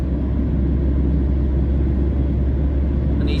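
Steady low engine rumble of an MSRTC Lalpari bus overtaking a Shivshahi bus on the Kolhapur–Pune highway, continuous and droning with road noise, no voices.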